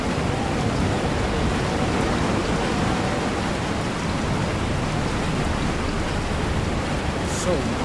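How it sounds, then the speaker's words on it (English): Heavy rain pours down in the VR game Resident Evil 4, heard as a steady, loud wash of broadband hiss that never lets up across the whole stretch. "It's so rainy now."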